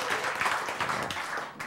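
A lecture hall audience gives a brief, fairly subdued round of applause, steady, diffuse clapping at moderate level for under two seconds with no voices standing out.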